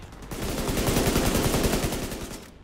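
Sustained automatic gunfire from hip firing in The Division 2, a loud, close, rapid stream of shots lasting over two seconds before cutting off, with no talk.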